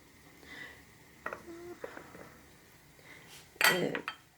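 Garlic cloves drop into a glass jar of cucumber pickles with lemon, giving faint clinks and light knocks and then one louder clattering burst near the end, all close by in a quiet kitchen.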